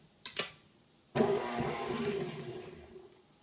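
An electric mixer creams softened unsalted butter, starting after a couple of brief clicks and then running with a steady whirring motor drone that slowly eases off, close and moderately loud, with no talking.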